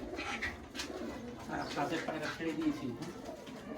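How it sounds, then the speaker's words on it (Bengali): A green Girebaz pigeon brooding its young coos in low, rolling, repeated phrases close by while someone talks over it. "এই দেখুন একটি গিরেবাজ সবুজ, এর বাচ্চা আছে, বাচ্চা তা দিচ্ছে।"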